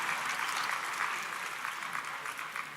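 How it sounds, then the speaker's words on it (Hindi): Audience applause at an award ceremony honouring selected UPSC candidates in Bhopal, a steady crowd of clapping hands heard from a distance, fairly faint and even throughout. "तालियों से स्वागत करें"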